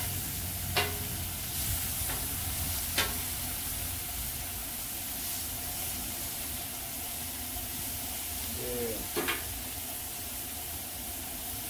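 Lamb chops sizzle on a flat-top griddle as a steady, even hiss that runs throughout, with a few brief scraping or tapping clicks rising above it.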